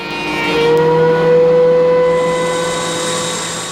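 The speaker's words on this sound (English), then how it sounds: "I take them to the planer, clean up the saw marks on the one side, and get everything to the same thickness" A thickness planer planes wooden stock, a loud, steady motorized drone with a sustained pitched whine that swells and fades as a board feeds through.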